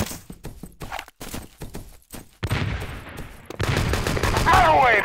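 Rapid bursts of gunfire in the online shooter Enemy Territory (ETPro), fast repeated shots that give way to a denser, louder barrage with other game noise, under occasional voice chat.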